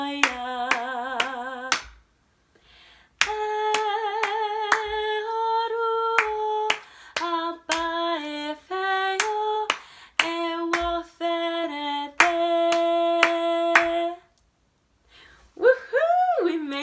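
A Nigerian song with hands clapping along in sharp single claps. The claps land in a steady rhythm between sung phrases and under them, with a couple of short pauses.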